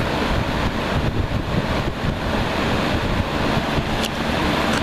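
A new box fan blowing air runs as a steady, loud broadband whoosh with no break, close to the microphone and with no voices.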